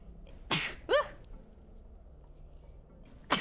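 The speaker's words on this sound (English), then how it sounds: "I've been sneezing all week" A person sneezes sharply at close range, a short throaty burst follows, and another sneeze comes near the end, with quiet room noise between.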